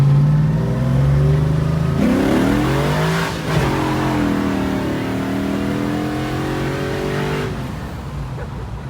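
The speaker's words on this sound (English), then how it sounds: "I did drive the car last night" A 1965 Ford Mustang engine revs repeatedly while driving, its loud, close exhaust note climbing and falling in several steady pulls with no talking.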